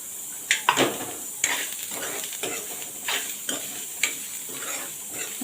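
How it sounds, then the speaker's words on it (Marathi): Onion and grated dry coconut roast together in a pan, giving a low dry sizzle broken by repeated sharp scrapes and taps of a spatula stirring against the metal, with no speech. "इथे आता मी कांदा चांगला भाजून घेते आता याच्यामध्येच मी हा सुका खोबरा आहे किसलेला तो घालणार आहे"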